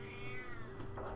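A single drawn-out cat meow, close and clear, rising and then falling in pitch over a low steady background hum during a gaming session.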